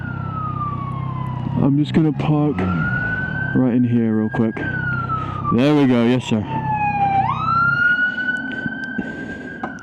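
An ambulance siren wails in a video game, holding steady then sweeping up in pitch, heard alongside loud engine-like rumble and someone talking over it.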